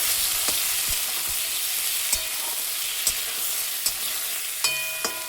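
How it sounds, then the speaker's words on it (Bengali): Flat beans fried with salt and turmeric, a close, steady sizzle broken by several sharp spatula scrapes and knocks as the beans are stirred. "হলুদটা দেওয়ার পর এবার আমি একটু নাড়াচাড়া করে দেবো এই সিমটা"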